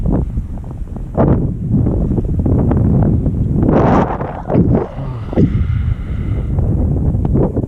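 Steady breeze gusting across a lake during crappie trolling from a boat, buffeting the microphone with continuous rumbling wind noise and rustle, with no clear talk.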